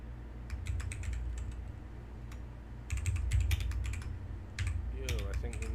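Rapid clicking keystrokes on a computer keyboard as a poll is typed, close and fairly quiet, in bursts with brief pauses over a low background hum.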